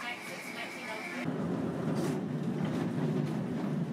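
A low, steady rumbling of a heritage tram rolling slowly through Christchurch, New Zealand, with a brighter tone fading out early and faint clatter throughout.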